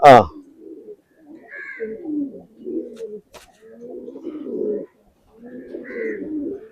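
Pigeons coo in low, rounded repeated phrases close by, with a brief higher chirp now and then and short pauses between calls.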